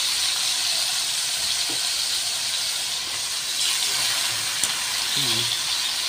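Chicken breast pieces, bones included, fry in hot oil until golden brown for chicken biryani, giving a steady, close hiss and sizzle that runs unbroken throughout with a few faint clinks.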